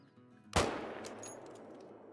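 A single sharp, loud rifle shot cracks close by and trails off into a reverberant rumble, fired at an animal in the hunting game theHunter: Call of the Wild.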